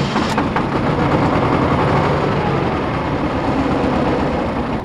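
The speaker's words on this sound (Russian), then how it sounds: "У огородника есть верный кормилец – старенький трактор советской сборки." An old Soviet-built tractor engine runs with a loud, steady, low rumble that continues unbroken and close by, with no voices over it.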